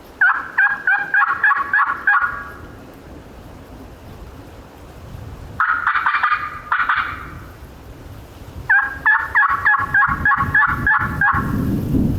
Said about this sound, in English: Another nut gobbler.